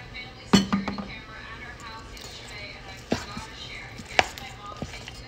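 Baked sushi ingredients are stirred in a bowl, with a few sharp clinks of a utensil against the dish spread between soft mixing sounds, close by while someone talks.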